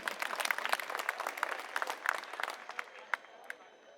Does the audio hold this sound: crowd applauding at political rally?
yes